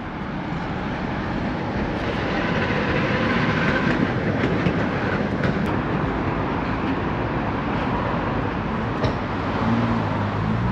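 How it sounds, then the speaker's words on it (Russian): A loud, continuous rumbling roar of a passing tram on a Krasnodar street fills the scene, steady and close, with faint clatter and squeaks over it. "Трамвай."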